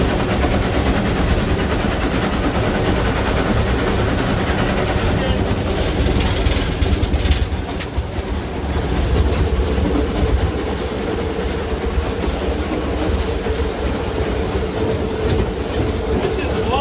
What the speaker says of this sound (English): That's a maintenance run of the train.